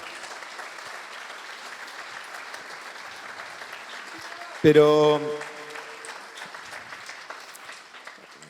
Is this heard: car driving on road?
no